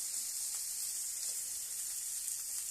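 A burger patty fries in a pan just after being flipped, giving a steady, even sizzle and hiss, close and fairly quiet, with no other sounds.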